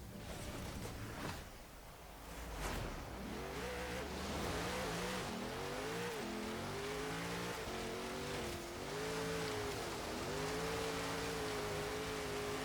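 A 2014 Local Motors Rally Fighter driving off-road in Forza Horizon 3, its engine revving up and down through gear changes with a loud, steady drone and rising pitch sweeps, tire noise underneath.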